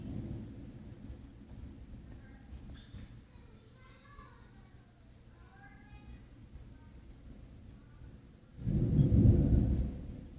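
Thunder from a severe summer thunderstorm with frequent lightning, rumbling low and steady beneath a voice before a loud, close, booming roll bursts in near the end.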